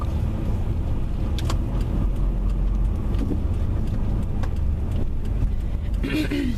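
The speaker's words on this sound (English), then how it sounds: "driving a stick in New York traffic is kind of annoying because it's stop and start, stop and start" A manual-transmission car moves through stop-and-start New York traffic, its steady road and engine rumble running throughout, with brief passing sounds and people talking inside.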